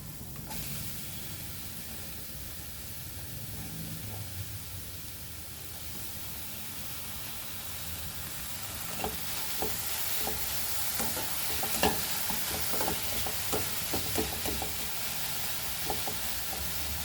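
Tomato sizzles quietly in a pan for an oil-free aloo matar curry, a soft steady hiss broken by the clicks and scrapes of stirring that grow busier in the second half.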